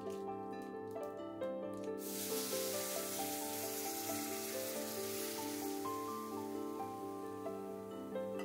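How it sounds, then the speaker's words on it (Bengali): Lentil dal with salt and turmeric is poured into hot oil with black mustard seeds, and a loud hissing sizzle bursts in after a quieter start, then settles into steady frying over tonal background music. "এখন যে ডালটা দেখো নুন হলুদ দিয়ে রেখেছি সেটা আমি এর মধ্যে দিয়ে নেব"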